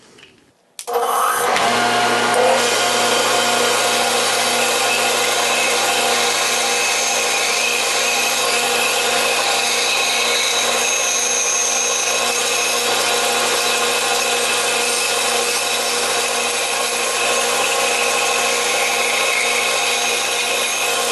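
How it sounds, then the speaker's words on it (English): Bandsaw cutting wood with dust collection running, a loud steady whine with hum starting after a brief quiet moment and continuing unbroken for about twenty seconds. "Here we are at the bandsaw, and the bandsaw is already set up."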